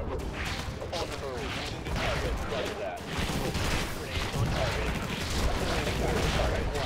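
Rockets fire continuously in the top-down shooter Infested Planet, a dense, unbroken barrage of explosive bursts and whooshes layered with crashing combat noise, loud and close throughout.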